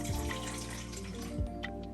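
Water pours into a blender while making Brazilian lemonade, a continuous splashing, filling rush heard close up over a steady low hum.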